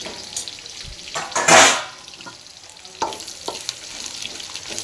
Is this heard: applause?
no